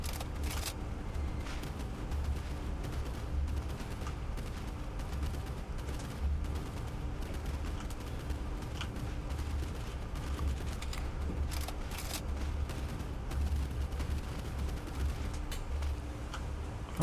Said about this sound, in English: Ooh, and machine gun, that is a little bit more of a threat there.